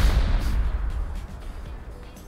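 Heavy C4 charges detonating during a raid on a decaying clan base in a video game, a loud low boom at the start that rolls off into a fading rumble with scattered crackles, no voices.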